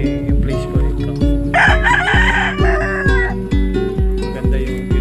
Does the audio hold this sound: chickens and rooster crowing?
yes